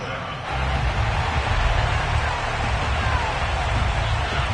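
Steady, dense rain hisses over a football game, a constant broadband wash that swells slightly after the first half-second and holds evenly at a moderate level.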